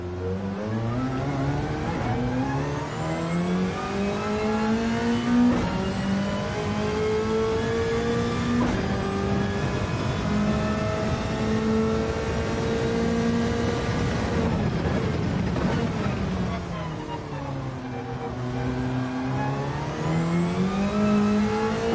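Race car engine in Gran Turismo 7 revving steadily, pitch climbing and falling through gear changes across a continuous, loud drone with no voices.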